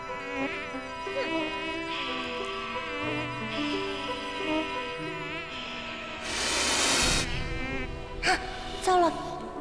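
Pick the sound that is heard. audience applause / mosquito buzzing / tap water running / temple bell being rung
mosquito buzzing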